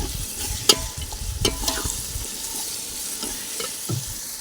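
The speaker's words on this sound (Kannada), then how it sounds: "ಶುಂಠಿ ಬೆಳ್ಳುಳ್ಳಿ ಪೇಸ್ಟ್ ಹಾಕಿದ್ದೀನಿ." Ginger garlic paste sizzling steadily in a hot pan for chicken biryani, with sharp scrapes and clicks of a spoon stirring it, close and alone.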